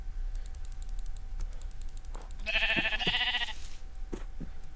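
Sheep bleat in a video game on a battle server, several short electronic-sounding bleats in quick succession over a soft clatter of keyboard typing and clicking.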